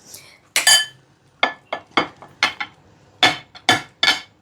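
Fruit salad of papaya, pomegranate and banana tossed with a utensil in a bowl for two, giving a series of close, sharp clinks and scrapes in irregular bursts, with no talking.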